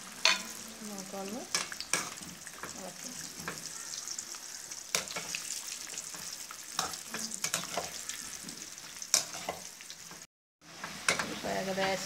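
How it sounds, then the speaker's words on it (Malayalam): Sliced raw plantain frying in hot coconut oil, a steady close sizzle with frequent stirring scrapes and clinks throughout, alone with no talk and a brief drop to silence near the end. "അപ്പോൾ ആ തിളച്ച ഓയിലിലേക്ക് നമ്മൾ ഈ അരിഞ്ഞു വെച്ചേക്കുന്ന ഈ കായ ഇതിലേക്ക് ഇട്ട് കൊടുക്കാം"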